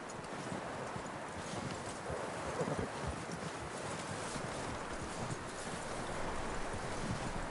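Horse hooves clop steadily in the video game Red Dead Redemption, a soft rhythmic patter under a broad wash of wind and ambient noise, fairly faint and without speech.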